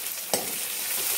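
Chopped onion and green chili fry in a pan with a steady close sizzle, broken once by a short sharp stir or clink.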